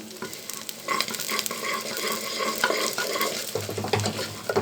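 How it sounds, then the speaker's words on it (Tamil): Dal fries and froths in coconut oil in a pan, a steady close sizzle with bubbling crackle and occasional stirring scrapes throughout, no voices. "தேங்காய் எண்ணெய் ஊற்றுனதுனால நுரைச்சிக்கிட்டு இருக்குது பாருங்கள்"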